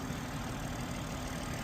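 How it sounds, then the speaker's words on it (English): A 2021 BMW X7 xDrive40i engine idles smoothly in its engine bay, a steady low rumble with even, unbroken hum, close and moderately loud with no voices over it. "You can hear it idling very smoothly."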